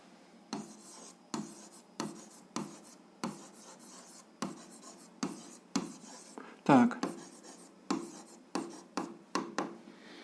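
A pen writes an algebra equation by hand on paper, producing repeated close scratchy strokes in short bursts with brief pauses between them, plus a harsher scrape partway through.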